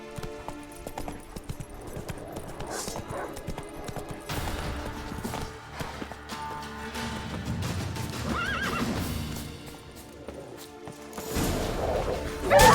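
Geralt's horse Roach from The Witcher 3 galloping, with hooves clopping steadily and neighs breaking through a dense game soundtrack of crashes and music; the level stays loud throughout, swelling sharply at the very end.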